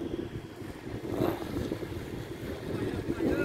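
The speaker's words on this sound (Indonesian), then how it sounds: "Anginnya gede." Strong wind blows across an outdoor home yard in Arabia, making a steady, loud, low rumble that buffets the microphone for the whole stretch.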